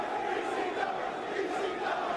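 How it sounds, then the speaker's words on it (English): A wrestling arena crowd chanting ECW at an ECW Arena event, a dense, steady roar of many voices filling the whole stretch without pause, loud and echoing. "you can hear the crowd right now chanting ECW"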